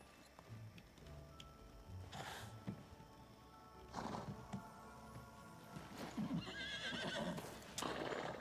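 A horse in the video game Disney Dreamlight Valley neighs several times in loud, bright bursts, with clip-clopping hooves and soft game ambience in between.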